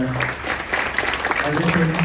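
An audience at a Hacktoberfest tech meetup breaks into dense, sustained applause, loud and close, with some voices and murmuring mixed into the clapping.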